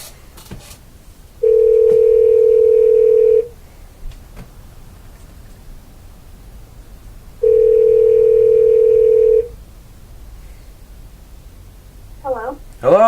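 Two long, loud ringback tones sound while a call is placed, each about two seconds long and separated by a pause of roughly four seconds. Faint clicks and a brief burst of sound come near the end.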